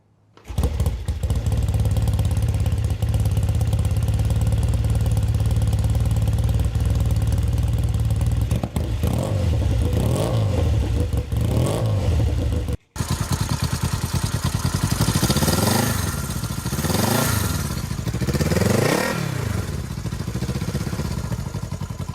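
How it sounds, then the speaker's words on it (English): A loud old British twin motorcycle engine with a 360-degree firing order runs steadily with a rumbly idle, then revs up and down several times in rising and falling swells. "this 360-degree firing order is what gives those old British twins that distinctive and iconic, just kind of rumbly,"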